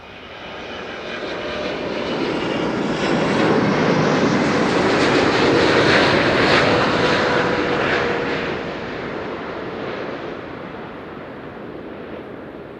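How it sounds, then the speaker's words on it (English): A KLM Boeing 777-200 arriving at Amsterdam Schiphol Airport roars steadily, its jet engine noise swelling to a loud peak midway and then easing off, with no voices. "This is KLM Flight 622, arriving from Atlanta, Georgia. It is a 777-200."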